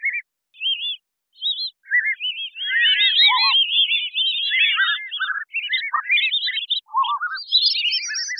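A single synthetic chirping bird call copied many times in Tapestrea to build a crowd, with short tweets overlapping more and more densely against complete silence, bright and close.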